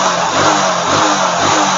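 A motorcycle engine revs hard and picks up speed, a loud, close, throbbing drone with rising and falling pulses over a couple of seconds.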